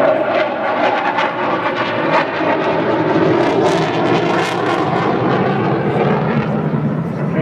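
A Tornado jet aircraft running in fast and low as a show of force, a loud broadband engine roar that stays steady and sustained throughout, with no talk.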